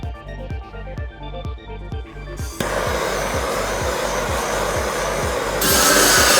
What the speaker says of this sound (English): he's even using his metal scraper here